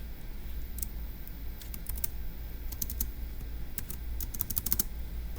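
Fast typing on a computer keyboard, close and crisp, irregular bursts of keystrokes over a steady low background hum, with no talking.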